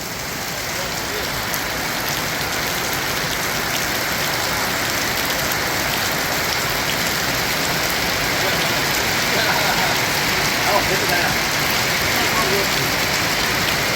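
Steady, dense rainfall hisses continuously throughout, a heavy downpour drumming on surfaces with no break.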